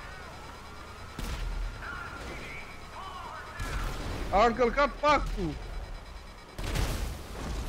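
Heavy booming tank cannon blasts go off in a tank battle video game, mixed with explosions and electronic effects, while people talk and shout over them.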